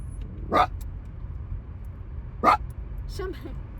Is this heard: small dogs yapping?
yes